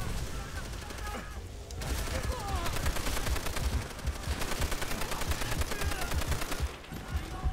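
Sustained machine-gun fire from Japanese soldiers in the WWII shooter Call of Duty: World at War, dense rapid bursts of automatic gunfire continuing almost without pause, loud and close, with brief lulls.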